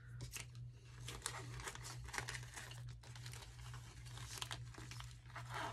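Plastic blister packaging of a Re-ment miniature set being opened, a faint continuous crinkling and crackling of plastic with scattered snaps over a steady low electrical hum.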